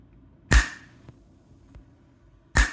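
A Meross outdoor smart plug's sturdy protective outlet cover snaps shut with a loud, sharp bang, followed by faint small clicks and then a second loud snap near the end.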